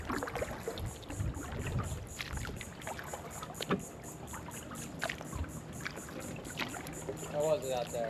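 Kayak paddle strokes dip and splash on calm water in Tarpon Bay off Sanibel Island, soft intermittent swishes and drips near the boat over light wind, with a few faint voices in the background.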